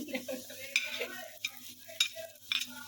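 Capsicum and other vegetables fry in a pan with a soft continuous sizzle, broken by a few sharp scraping stirs of a utensil, close and fairly quiet.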